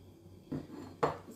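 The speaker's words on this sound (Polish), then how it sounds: "Założyć pokrywę i miarkę." A lid and measuring cup are set onto a Thermomix mixing bowl, giving two close, light clatters of plastic on the bowl followed by a brief third knock.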